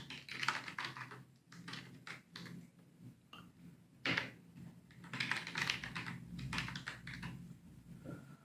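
Computer keyboard typing a password during setup of an NVIDIA Jetson Nano, quiet irregular clusters of key taps with short pauses, close and soft.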